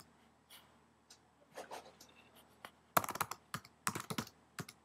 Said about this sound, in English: Type the URL in here.